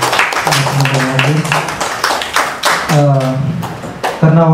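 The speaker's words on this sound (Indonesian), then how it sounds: "Beri tepuk tangan lagi kepada teman-teman lagi." Applause from a seminar audience at a talk on progressive legal politics, a run of claps heard alongside someone speaking near the microphone, the clapping steady but partly under his voice.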